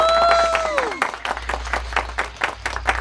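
A birthday party audience claps for a magician's act, dense patter of many hands following a trailing whoop, moderately loud and sustained, with voices cheering over it.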